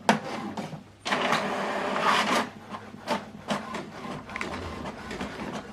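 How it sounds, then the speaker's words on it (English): An HP DeskJet 3700e or 4200e printer prints a document, giving close, intermittent mechanical whirring and clunking as the paper feeds and the carriage moves, with short pauses between bursts. "So this document is printing via Wi-Fi Direct."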